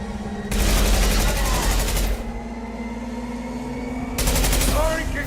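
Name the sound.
gunfire from the video game Mass Effect 2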